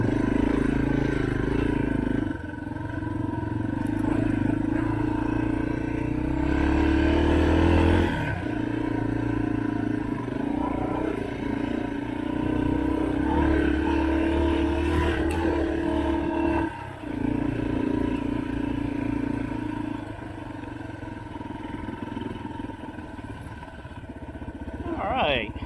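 Dirt bike or trail motorcycle riding an access road through forest trails at Walker Valley, engine droning steadily and close with throttle shifts and brief dips, a voice briefly heard over it.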